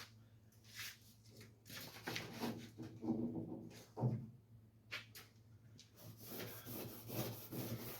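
Close, repeated strokes of hand-rubbing a door's wooden surface come in uneven bursts, a rasping back-and-forth with short pauses between passes.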